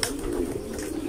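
A homing pigeon cooing close up in a steady, low, throaty tone that holds for a second or so, with no talk.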